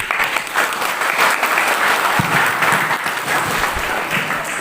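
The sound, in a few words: audience applause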